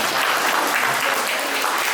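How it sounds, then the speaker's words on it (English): A birthday party audience applauds together, a steady close wash of clapping that fills the whole moment without speech. "let me give her a round of applause"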